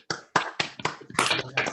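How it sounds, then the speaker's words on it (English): Online audience members unmuting to give a round of applause, a burst of several hands clapping together in uneven waves for under two seconds, close and moderately loud. "can I ask everybody to unmute and give our customary round of applause to David"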